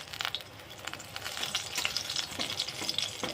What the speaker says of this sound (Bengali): মাছটাকে কড়া কড়া করে ভাজবো। লো ফ্লেম করে দিয়েছি